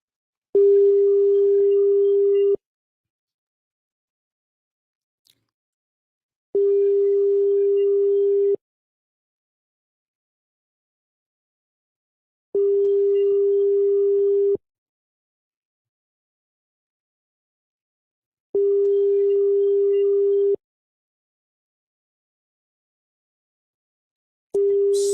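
Unanswered telephone call tone: a steady electronic tone repeating in evenly spaced bursts of about two seconds, separated by roughly four-second silences, clear and alone.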